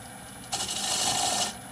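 A sharp spindle gouge bites into an idigbo wood bowl spinning on a lathe at about 800 rpm, producing a single close, hissing cut of roughly one second over a steady motor hum.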